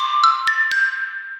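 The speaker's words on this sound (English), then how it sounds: "Xylophone." A xylophone taps out a jingle, a short run of four quick struck notes with brief ringing tones, bright and near, alone without talk.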